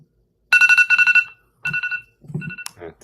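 A mobile phone ringtone plays loud and close: a bright electronic melody in several short bursts separated by brief gaps, with no voices.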